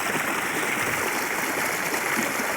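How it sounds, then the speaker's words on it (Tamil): Water gushing from a farm pump set onto fields, a steady loud rushing flow close by with no pauses. "பம்ப் செட் தண்ணி."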